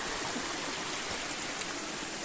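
Steady broadband rush of the Uppala waterfall in Munnar, a continuous roar of falling water heard up close with no voices over it.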